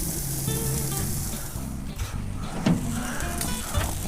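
Salmon fillets in a fresh herb sauce sizzle steadily on a closed grill, a continuous loud hiss and crackle running through the whole stretch with small pops near the end.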